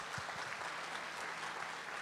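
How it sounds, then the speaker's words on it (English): Congregation applauding at a church Mass on the last feast of 2019, a steady dense wash of clapping filling the short stretch at even loudness, with no voices. "Let's give her a round of applause."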